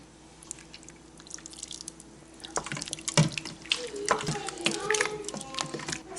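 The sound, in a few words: coconut milk mixture poured into Instant Pot and stirred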